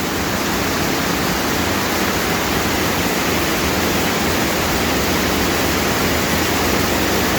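A monsoon waterfall at Lonavla thunders in heavy rain, a loud, dense, unbroken roar of falling water filling the whole clip at close range.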